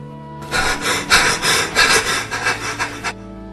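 A knife sawing through bread in a Malayalam radio drama, a close, rough rasping lasting about three seconds over a faint background tone.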